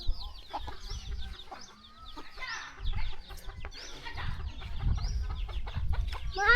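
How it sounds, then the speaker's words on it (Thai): Farmyard chickens cluck repeatedly in short, irregular bursts, fairly close, over a low rumbling background. No voices are heard. "โอ้ยเสียงไก่"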